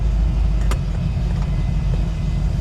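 A 1951 Ford Custom car on the road, with steady low engine rumble and drive noise as it goes into gear. There is one brief click partway through and no talking.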